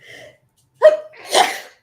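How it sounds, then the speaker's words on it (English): A single sneeze rings out, a short sharp intake followed by a breathy burst, with faint vocal sounds just before it. "I'm going to sneeze."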